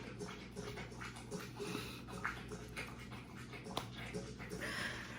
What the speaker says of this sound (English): The dog is drinking.